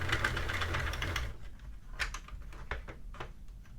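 A Sentro or Addi knitting machine knitting stitches, first a continuous mechanical rattling whir, then a run of separate clacks and ticks from the crank and needles, close by with no voices.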